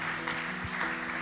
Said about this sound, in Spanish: denle un aplauso al Padre tan rico que tenemos